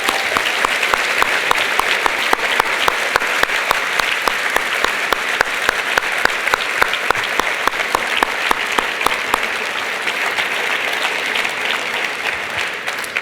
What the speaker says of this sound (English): Let us give all of our scholars one more round of applause.